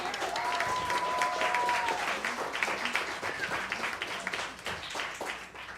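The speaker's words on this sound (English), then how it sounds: "Another round of applause for the Metropolitan Room." An audience at the Metropolitan Room cabaret venue applauds with sustained, dense clapping. It holds loud at first, with a brief tone near the start, then gradually thins out.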